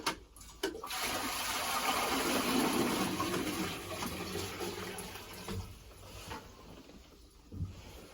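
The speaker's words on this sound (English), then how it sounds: "we're gonna put some water in the pot on the stove" Water pours steadily into a cooking pot on a stove at a bus getaway cabin, a continuous close rushing fill that runs for several seconds before tapering off into a few faint drips and knocks.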